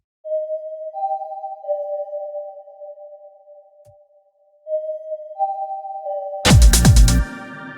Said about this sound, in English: And then the next sound that we have here is this little ARP thing, which sounds like this.